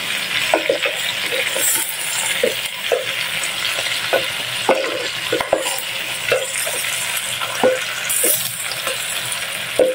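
A utensil stirs sauce in a hot frying pan, scraping and clinking in an irregular rhythm over a steady close sizzle; soy sauce has just been mixed in and no one speaks.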